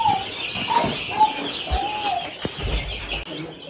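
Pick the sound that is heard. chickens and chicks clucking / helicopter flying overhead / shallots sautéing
chickens and chicks clucking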